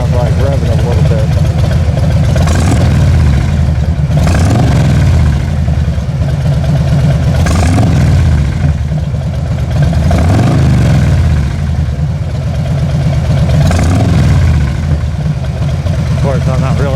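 A 2018 Harley-Davidson FXLR Low Rider engine idles loudly and close by in a driveway, revving up in several repeated bursts that rise and fall at a steady rhythm.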